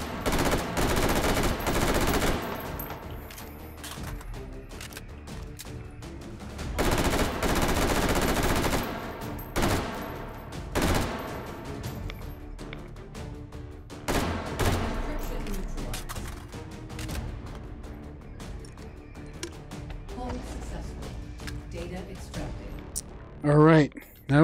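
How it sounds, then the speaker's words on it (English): Gunfire in the Hot Dogs, Horseshoes & Hand Grenades VR game on HTC Vive, with loud bursts of rapid shooting and single shots scattered across a long stretch and a person talking between them. "I thought somebody was shooting behind me."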